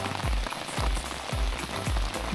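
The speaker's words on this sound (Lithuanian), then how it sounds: "Kaip gražiai lyja." Steady rain patters on a surface, with heavier drips landing in a regular rhythm close by.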